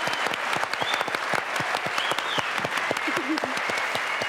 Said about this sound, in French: Applaudissements. Bravo.